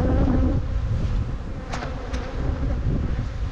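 Honey bees buzz loudly on a hive frame being built up for almond pollination, a dense continuous hum close to the microphone with a couple of brief sharp sounds midway.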